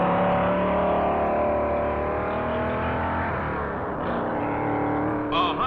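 A 1957 Pontiac stock car racing on the Daytona Beach course roars at high, steady engine pitch, its tone sliding slightly as it passes, loud and fairly close with no voices.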